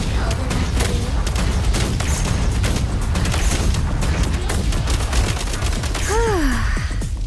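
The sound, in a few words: frag grenade explosion and gunfire in a video game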